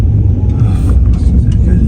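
A snow removal vehicle's engine rumbles loud and close as it revs on frozen, slippery ground during a Canadian snowstorm, a continuous heavy low drone with no voices.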